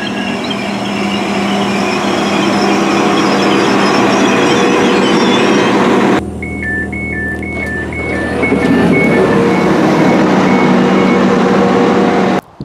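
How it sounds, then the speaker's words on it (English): Interior of a passenger train on the Glossop Line running from Rose Hill Marple towards Fairfield, a loud steady rumble of wheels and motors; midway the sound shifts abruptly and a repeating two-tone beeping signal sounds before the rumble swells again. "So let's catch that train now to the next station"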